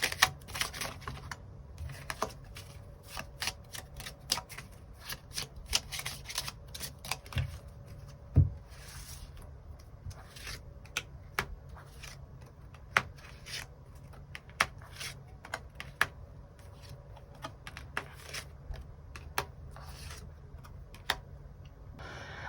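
Tarot cards being shuffled and drawn at close range, a steady run of quick soft riffles and flicks with sharper snaps scattered throughout, no talking.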